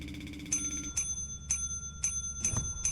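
A metallic bell rings in Lethal Company with about six sharp, evenly spaced strikes whose bright tones linger between hits, over a low steady hum inside the ship.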